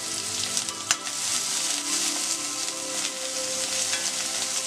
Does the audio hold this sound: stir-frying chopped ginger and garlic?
yes